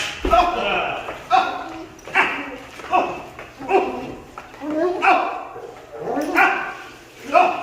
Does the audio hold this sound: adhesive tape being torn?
no